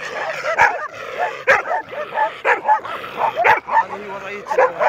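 A fierce stray dog barks repeatedly outdoors, loud sharp barks spaced roughly every second with yelps between them, while a person speaks.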